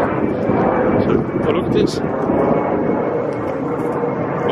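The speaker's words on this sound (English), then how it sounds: "So that's the reason why you're hearing a lot of airplanes, actually." Airplanes flying low over an old cemetery near Brussels airport, a steady loud rumbling roar that fills the whole stretch, with a person speaking briefly over it.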